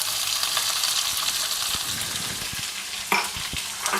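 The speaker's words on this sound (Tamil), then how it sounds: "அடுத்தது நம்ம பெரிய வெங்காயம் சேர்த்துக்கலாம்" Big onions frying in a pan for a Tamil-style poori masala, a steady broadband sizzle with occasional sharper crackles and stirring scrapes near the end, close and continuous with no talking.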